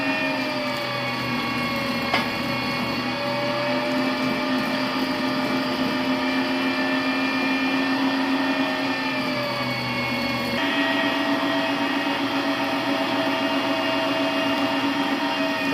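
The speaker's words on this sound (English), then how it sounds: "Now that all the meat's gone through the grinder at least once" Meat grinder running steadily through venison and pork, a continuous, loud, humming motor drone that holds almost unchanged throughout, with a small shift in pitch partway through and no voices.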